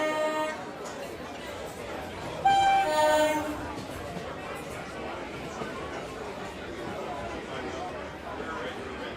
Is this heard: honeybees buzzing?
no